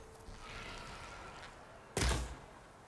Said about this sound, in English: That was some big-ass explosion.